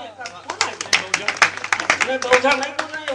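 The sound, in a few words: audience clapping loudly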